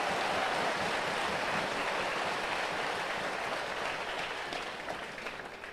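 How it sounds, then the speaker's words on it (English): An outdoor crowd at an Army basic training graduation ceremony at Fort Jackson applauds the 282nd Army Band, a steady wash of distant clapping that slowly fades toward the end. "so let's give them a round of applause, too."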